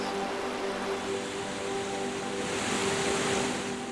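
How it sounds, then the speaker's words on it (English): River water flowing through native forest in Argentina, a broad, steady rushing wash that stays loud and even throughout, with no voices. "There are the rivers."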